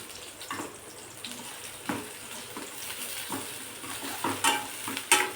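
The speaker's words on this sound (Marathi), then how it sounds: "कांदा, मिरची, लसूण आता व्यवस्थित असं परतून घ्यायचं आहे आपल्याला, याचा कच्चेपणा दूर होईपर्यंत।" Onion, green chili and garlic sautéing in a pan, a soft continuous sizzle punctuated by spatula stirs and scraping clicks, fairly quiet and close.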